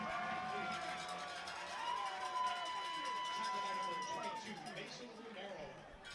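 Crowd at a high school football game between Highland and Desert Ridge, a steady far-off roar of cheering and chatter that swells slightly mid-play, with a commentator's voice running over it.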